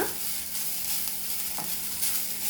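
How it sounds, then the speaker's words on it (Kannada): A handful of grated coconut and a little coriander leaf are stirred in a hot pan for a curd and buttermilk saaru, giving a soft, continuous sizzle with faint scraping strokes, quiet and close. "ಒಂದು ಮುಷ್ಟಿಯಷ್ಟು ಕಾಯಿ ತುರಿನ ಹಾಕೊಳ್ಳಿ ಹಾಗೆ ಸ್ವಲ್ಪ ಕೊತ್ತಂಬರಿ ಸೊಪ್ಪು ಜಸ್ಟ್ ಒಂಚೂರು ಹೊತ್ತು ಇದನ್ನ ಮಿಕ್ಸ್ ಮಾಡಿ"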